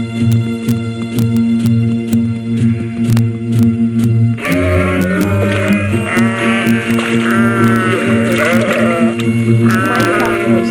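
Sheep bleat from The Plague Dogs film: wavering, drawn-out calls overlap one another over a steady low drone, growing busier and more layered about halfway through.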